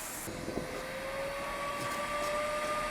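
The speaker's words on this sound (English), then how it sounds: "The vacuum wasn't cutting it." A steady, droning shop vacuum motor runs throughout with a high whine rising in pitch, loud and continuous, with no voices, used during an engine removal in a car repair shop.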